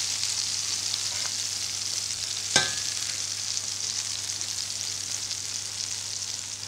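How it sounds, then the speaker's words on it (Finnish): Beef burger patties and bacon sizzle steadily in a frying pan, a continuous close hiss with one brief sharp clatter partway through and no talking. "Älkää liian pitkään näitä paistako."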